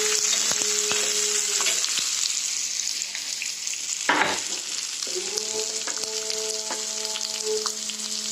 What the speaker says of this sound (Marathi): हे कांदे चांगले भाजून घेते